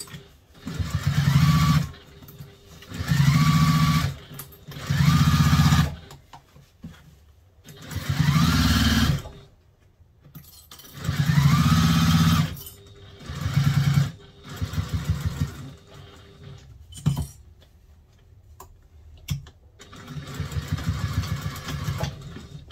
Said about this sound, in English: I'm going to stitch straight across like we did last time, catching all the seams.